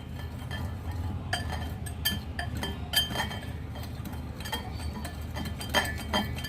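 Karela kadhi ingredients mixed in a bowl, with repeated light clinks of a spoon against the dish over a steady low background hum, no talk.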